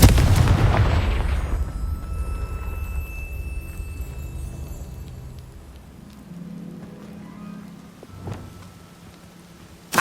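A Confringo fire spell from Hogwarts Legacy bursts with a loud, close blast that rumbles and decays over about two seconds, followed by quieter game ambience and a brief sharp crack near the end.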